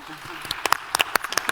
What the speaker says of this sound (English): A big applause, come on.